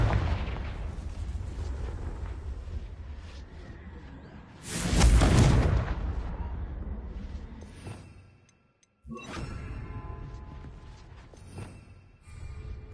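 A Confringo fire spell blast in Hogwarts Legacy, a single loud booming burst midway with a rushing tail, set among quieter game effects and spell noises, with a brief silence before the action resumes.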